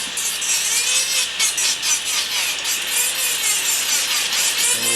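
A dental occlusal splint being smoothed with a rotary tool gives a continuous high, whining grind with small pulsing variations, loud and close, steady throughout.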